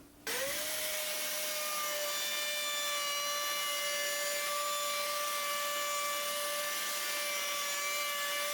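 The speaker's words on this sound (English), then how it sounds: "I'm going to use a 3/8 inch roundover bit just to give it some soft edges around the bottom." A router fitted with a 3/8 inch roundover bit whines steadily at high pitch as it rounds over the bottom edge of a wooden dish. It spins up at the start and then runs loud and continuous for several seconds with no talking.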